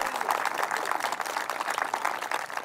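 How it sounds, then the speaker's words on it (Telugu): Applause from an event audience greeting guests at a farmers' agricultural science program, a steady wash of many hands clapping, moderately loud and continuous throughout. "అందరూ అతిథులకు స్వాగతంతో పెద్ద చప్పట్లు."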